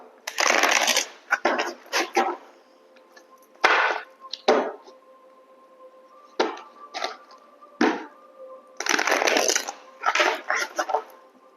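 Oracle cards are shuffled for a reading in a series of crisp, papery riffling bursts separated by short pauses, close and fairly loud, with a faint steady tone underneath and no talking.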